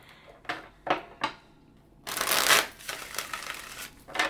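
A deck of tarot cards is shuffled up close, with a few quick riffling bursts followed by a longer, louder stretch of cards rasping and slapping together, with no voices.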